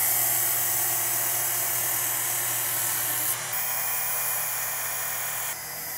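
A hunting knife is sharpened on a Work Sharp Ken Onion belt sharpener, giving a continuous high, gritty motor whine with abrasive hiss that shifts slightly as the blade moves, close and steady.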